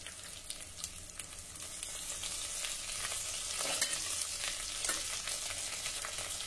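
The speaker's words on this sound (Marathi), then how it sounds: "आता 2 ते 3 हिरव्या मिरचीचे तुकडे घालणार आहे, 7 ते 8 कढीपत्त्याची पानं" Green chili pieces and curry leaves sizzle steadily in hot oil in a home kitchen, a continuous crackling fry that swells slightly midway, with no talking.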